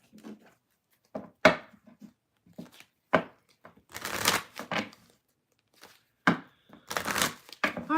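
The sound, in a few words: shuffling tarot cards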